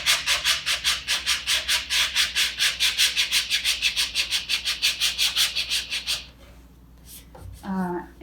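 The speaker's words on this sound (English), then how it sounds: "I can correct that with my sanding blocks." Wood surfaces being smoothed by hand with sanding blocks, a fast, steady back-and-forth rasping stroke repeated about thirty times, then stopping into quiet with a brief squeak.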